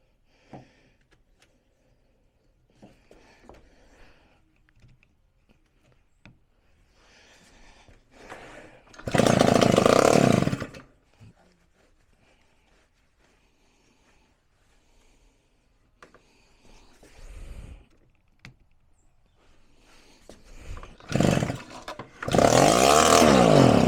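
A STIHL BR400 backpack blower with a small two-stroke engine, just revived after sitting dead, fires up and runs; the engine idles unevenly, then roars loudly in two bursts of revving, close up.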